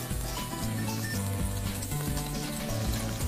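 Sardine fillets laid skin side down on a plancha sizzle in a continuous, close, even hiss with a low steady rumble beneath, no voices heard.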